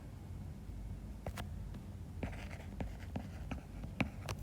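A pen scratches across paper in short, quick strokes, close by and faint, as notes are written out for a class on national income.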